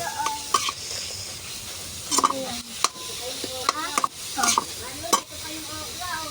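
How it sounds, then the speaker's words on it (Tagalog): Miso sautéed in a pan for a pampano sinigang, soft sizzling under repeated utensil clacks and scrapes against the pan, with a few brief tonal squeaks and no clear talking. "Igisa nga pala yung miso dyan guys"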